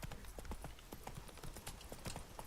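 Hooves of the horse Roach galloping in The Witcher video game, a quick steady clip-clop rhythm running throughout with a rushing ambient bed, no talking.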